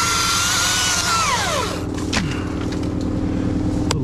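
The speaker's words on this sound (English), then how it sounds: "Little boost there with my little push with the saw" Handsaw cutting through oak wood, close and loud rasping strokes with a ringing tone that drops in pitch as the cut finishes, no talking.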